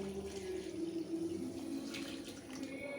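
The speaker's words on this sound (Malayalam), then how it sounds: "ഇനി ഇതിലേക്ക് ആവശ്യമായ വെള്ളം ഒഴിച്ച് നമുക്ക് അരി നന്നായിട്ടൊന്ന് കുതിർത്തിയെടുക്കണം" Water runs steadily into a container of rice with a continuous rushing, splashing sound, close and moderately quiet, with no voices.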